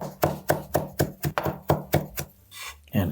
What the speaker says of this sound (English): And we're gonna chop this up.